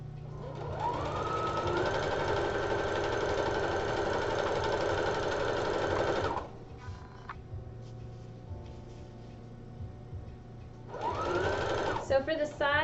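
A sewing machine runs a long continuous seam across the top of a skirt, a steady whirring drone for about six seconds, then stops while someone talks, and starts up again briefly near the end.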